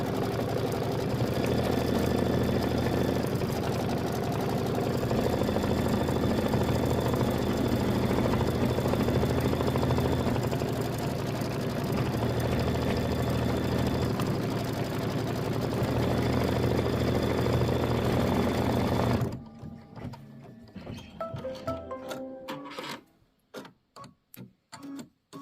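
A sewing machine runs steadily for about nineteen seconds, stitching the tack-down line of a quilt wall-hanging frame, then stops abruptly, leaving faint scattered handling clicks.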